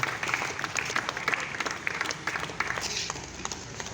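Audience applause at an Urdu stage comedy drama, a dense steady wash of many hands clapping that fills the whole stretch at moderate loudness, with no talk over it.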